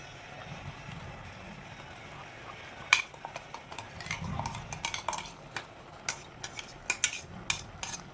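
Ground coconut and onion paste stirred into a simmering curry of jackfruit seeds, drumsticks and mango, with a spoon clinking and scraping against the pot in quick irregular strokes that grow busier toward the end.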